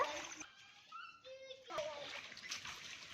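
Children splash water while playing at bath time at home, with choppy splashes around brief high-pitched voices and a lull in the middle.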